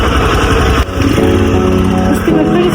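A motorcycle engine runs loud and close, a steady rough drone with a brief dip before it picks up again, alone without talk.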